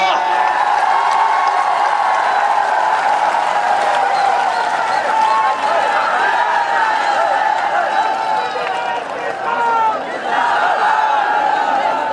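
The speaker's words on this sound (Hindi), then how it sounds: "जोरदार तालियां।" Loud crowd at an AIMIM political rally in Gagaria, Barmer, with clapping and cheering voices blended into a dense, sustained roar that holds steady for the whole stretch.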